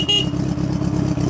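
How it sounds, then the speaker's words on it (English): A custom Honda Goldwing cafe motorcycle gives one short, bright horn beep at the start, followed by a steady rumbling idle close by. "here's your horn"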